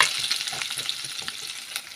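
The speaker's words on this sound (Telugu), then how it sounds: "ఇప్పుడు ఆయిల్ వేడైంది. చూడండి, ఇది ఎగ్స్ని కొద్దిసేపు ఆయిల్ వేసుకుందాం." Eggs frying in hot oil for an egg curry, giving a continuous close sizzle and crackle with a few light stirring scrapes over two seconds, with no voices.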